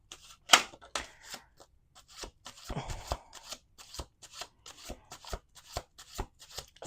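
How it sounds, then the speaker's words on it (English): Tarot cards are shuffled with a run of quick, crisp riffling slaps and flicks, close by and fairly soft, in irregular bursts. "We're going to do two more shuffles."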